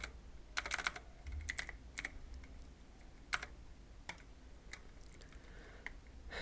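Computer keyboard keys clicked in short, scattered bursts while a Minecraft login fix is set up on a PC, quiet close taps separated by pauses against a faint background hum.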